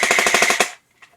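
An AK-74U airsoft gun fires one quick automatic burst of about eight sharp, close shots, followed by sudden silence.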